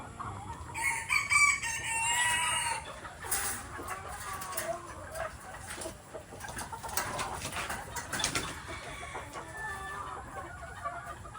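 Sweater Golden Boy gamefowl roosters in a breeding pen crow loudly and repeatedly, with clucking and other fowl calls layered over a busy outdoor background.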